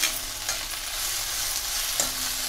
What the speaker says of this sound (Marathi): म्हणून ह्यो चरचर आवाज.